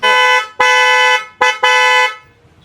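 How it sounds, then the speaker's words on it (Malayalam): A loud, close aftermarket car horn on a Maruti Suzuki Fronx blasts four times, two long honks and two shorter ones, each with a bright buzzing tone, then quiet. "ഇതേപോലെ സൗണ്ടുള്ള നല്ല ഹോൺ"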